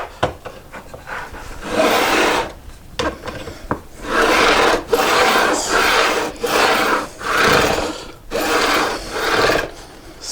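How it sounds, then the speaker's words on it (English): A metal file set at an angle is run down a guitar neck to bevel the fret ends, giving repeated rasping strokes, close and fairly loud, in a steady rhythm of about six passes with short pauses between them. "we'll just take this file. It's set in an angle, and we just run it down the neck"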